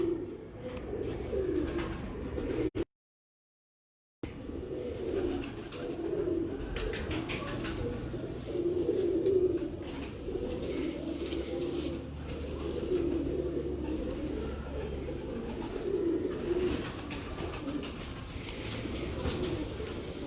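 Breeder pigeons in a loft in Kasur, Pakistan, coo steadily in low, throaty rolling murmurs from several birds close by, broken once by a brief silence, with faint chirps and wing sounds now and then.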